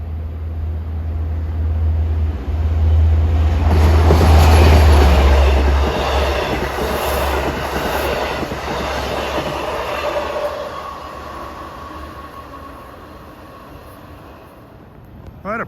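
A Long Island Rail Road train from Long Island City to Port Jefferson rolls through Forest Hills station at evening rush hour, a loud rumbling pass with a deep engine drone, rising roar and wheel noise fading gradually.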